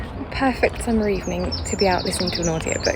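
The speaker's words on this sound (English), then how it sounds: "You can probably hear the birdsong behind me." Birds chirp and tweet in a busy chorus along a woodland path on a summer evening, close and bright, while a person talks over them.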